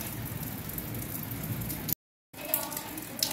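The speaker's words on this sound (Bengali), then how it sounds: "তো এই ভিডিওটা শুরু করছি বৃষ্টি দিয়ে।" Rain falls steadily, a dense, even hiss of drops on surfaces that cuts out completely for a moment before resuming.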